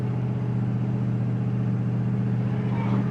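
The engine of a second-generation Dodge Ram pickup drones steadily and loudly from close by, a continuous low rumble under acceleration that shifts slightly in pitch toward the end as it moves through the gears.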